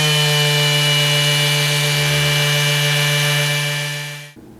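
A Bosch 18V cordless sander runs on rough white oak with a steady, loud, tonal motor whine and grinding texture, then winds down and stops near the end.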